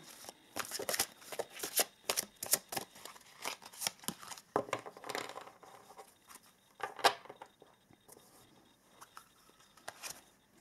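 Deck of oracle cards being shuffled by hand, a quiet close series of irregular riffling, flicking and sliding card sounds with brief pauses, no talking.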